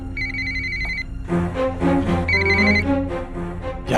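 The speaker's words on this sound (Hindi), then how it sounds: "अब किसका फोन आ गया?" A telephone rings with repeated electronic trills in two bursts separated by a pause, under background music and ambient scene sound in an indoor home setting.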